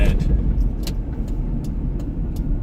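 Mid-engine, rear-wheel-drive van on the road, a steady low rumble of engine and road noise heard from inside the cabin, close and continuous, with a few faint clicks above it.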